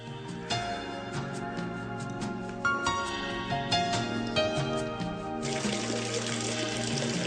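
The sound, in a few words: water flowing in underground canal of Eupalinos aqueduct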